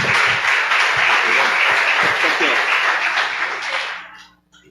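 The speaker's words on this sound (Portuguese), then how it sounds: "aplauda o nome do Senhor" A church congregation applauds loudly and steadily as a dense wash of clapping from many hands, with voices mixed in, and the clapping fades out at the very end.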